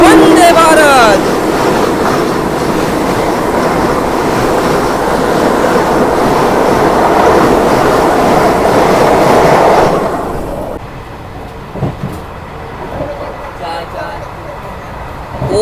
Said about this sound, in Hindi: ये एक बढ़िया ओवरटेक मरुधर एक्सप्रेस का शिकोहाबाद जंक्शन पे